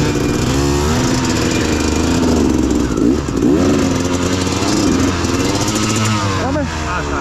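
Motorcycle engine revving hard and droning near at a friendly Pieria resin-themed race event, holding a loud steady roar through the whole stretch while people shout over it.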